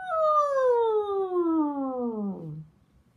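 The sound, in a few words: voice imitating car tires screeching around corner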